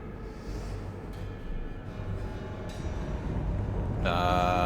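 Moving train in the video game Sorry We're Closed, a steady low rumbling rattle of carriages with a rising, brighter mechanical whine toward the end and no speech.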